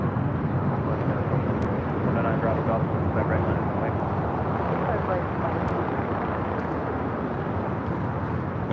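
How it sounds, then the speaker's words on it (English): Jet engine roar from a United Airlines Boeing 737 MAX 9 airliner at LAX, a loud, steady broadband rumble that holds for the whole stretch, with a voice talking over it. "That is United Airlines Flight 2675 coming from Houston. And a 737 MAX 9."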